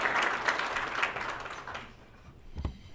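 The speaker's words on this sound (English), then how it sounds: "Give her a round of applause." Audience applause at a family business awards event, a dense patter of clapping that fills the room for nearly two seconds, then thins out and fades, leaving a quiet pause and a brief knock near the end.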